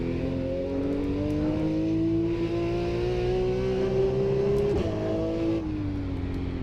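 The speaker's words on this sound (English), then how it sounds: "You hear that nice crack on the upshifts." A Porsche sports car's engine climbs steadily under hard acceleration, then drops sharply in pitch with a brief crack at each upshift before pulling again, loud and continuous from inside the car.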